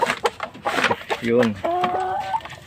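A gray hen clucks close by in a few short, throaty calls, following a brief spoken word, with other voices or sounds faintly around.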